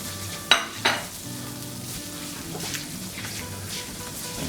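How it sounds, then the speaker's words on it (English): Fennel seeds sizzle softly in hot oil in a home kitchen pan for a fish curry. Two sharp pops come early, then a faint, steady crackle continues. "And my fennel seeds. I just want those to cook a little bit."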